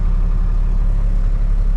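A crane truck's engine idles steadily, a deep, continuous low rumble with an even drone and no pauses, close and fairly loud on its own.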